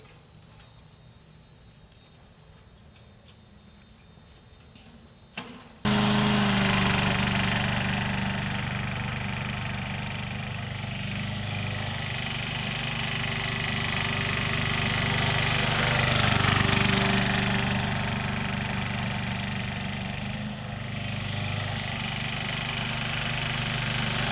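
Hybrid remote-control lawn mower with wireless and manual two-speed transmission, its engine starting up after a quiet few seconds and then running steadily and loudly, with a faint high electronic whine over a droning hum and a slight swell midway.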